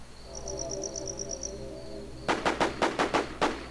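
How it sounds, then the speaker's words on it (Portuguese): Gunfire in the survival shooter The War Z: insects chirp in a quiet outdoor setting, then a rapid series of about seven sharp, cracking shots rings out in quick succession. "Tiro pra caralho."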